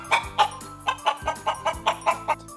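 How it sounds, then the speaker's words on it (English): Hens clucking close by in a quick, steady series of about nine short, throaty clucks. "chickens clucked"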